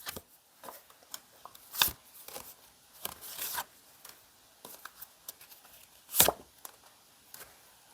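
Tarot cards shuffled and drawn by hand in a quiet room, giving a series of soft, brief riffling and slapping sounds with a couple of louder card snaps, up close and alone.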